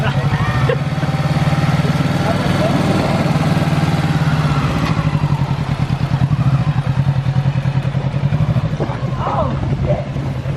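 A 2020 Kawasaki Z650 motorcycle engine pulling away, a steady mid-pitched throbbing drone with rising pulses heard close up throughout, with no speech over it.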